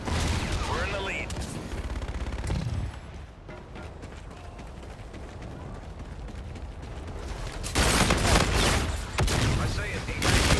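Gunfire from the video game Call of Duty: Infinite Warfare, rapid bursts and weapon mechanism clatter, loud at the start and end with radio-style callouts voiced in between.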